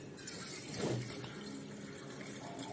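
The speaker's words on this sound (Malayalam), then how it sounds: "ഇതിലേക്ക് നമുക്ക് കുറച്ച് വെള്ളം, നമുക്ക് ആവശ്യത്തിന് വെള്ളം ആഡ് ചെയ്ത് കൊടുക്കാം." Water runs steadily from a tap into homemade star fruit juice, a soft, continuous splashing trickle at low level with no speech.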